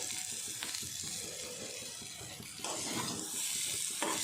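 Curry leaves hit hot oil in a pan for the last step of a bitter gourd and onion fry, giving a steady broadband sizzle with a louder crackling burst partway through, close and continuous, no voices.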